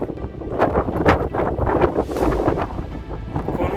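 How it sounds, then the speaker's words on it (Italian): Strong gusts of wind on a mountain summit, Cima Zugna, buffet the microphone in deep, rumbling surges that rise and fall, loud and close, with no voices. "con un vento che si fa sentire oggi"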